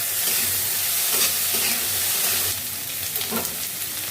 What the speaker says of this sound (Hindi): अब ये टमाटर कटा हुआ है, इसको डाल देंगे। अब इसको चलाएंगे।